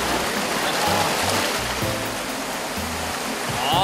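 A cool mountain valley stream flows in a steady, close rush of water that stays even throughout the short stretch, with no voices.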